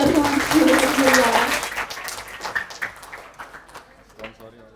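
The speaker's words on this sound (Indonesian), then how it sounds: "Tepuk tangan lagi dong, biar semuanya." An eighth-grade class claps together in a classroom, with dense applause at first that thins into scattered individual claps and fades out.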